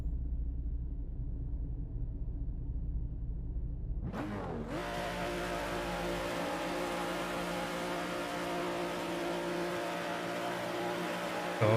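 Engine note of a race car in a virtual racing game at the Assen circuit, a steady droning whine that swells suddenly around the four-second mark and then holds at a loud, sustained pitch, with no voices over it.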